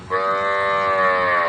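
A tall, long-bodied dairy cow in its third lactation gives a single sustained, close moo that carries steadily for over a second.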